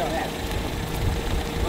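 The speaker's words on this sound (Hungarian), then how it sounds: "Itt vagyunk bent az autóban, én kezdem a vezetést." A car engine idling inside the cabin before setting off on a drive, a steady low rumble under a person talking nearby.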